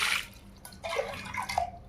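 Water is poured from glasses to soak rice, a few brief splashing pours and drips heard close and fairly quiet.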